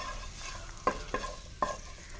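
Butter sizzles softly in a pan while being remelted, a utensil scraping through it in three quick strokes.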